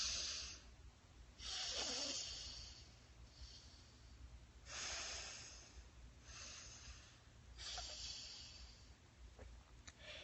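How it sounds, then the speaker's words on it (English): Alternate nostril breathing exercise, with several slow, breathy inhales and exhales taken in turn through each nostril, close and soft, with long airy swells spaced a few seconds apart and no talking. "Another breathing technique we did is alternate nostril breathing."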